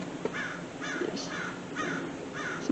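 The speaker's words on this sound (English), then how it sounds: "some crows right there too" Several crows caw in repeated harsh calls outdoors near a parked truck, evenly spaced bursts over steady background noise.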